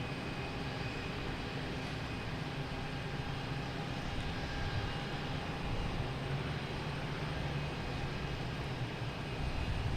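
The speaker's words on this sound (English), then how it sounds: "A321neo" A Delta Airbus A321neo at Boston Logan Airport gives off a steady, distant jet engine roar. The low rumble stays constant with no clear rise or fall.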